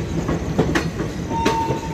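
Chhattisgarh Express train rolling on the rails near Ambala Cantt station, a steady loud rumble with rhythmic wheel clatter and a couple of sharp metallic clicks, no voices.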